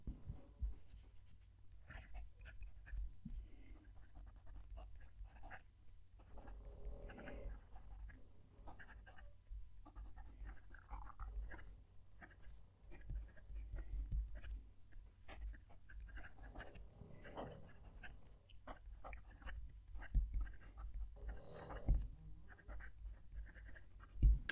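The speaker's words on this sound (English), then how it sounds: "Let's move the mic down to the page and write a sentence." A Majohn M600s fountain pen nib scratches across paper in faint, close, intermittent strokes, set against low background noise and a dog snoring nearby.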